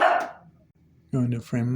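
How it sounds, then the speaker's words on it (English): A dog gives a bark at the start, close and sharp, while someone talks over the rest. "I hear dogs."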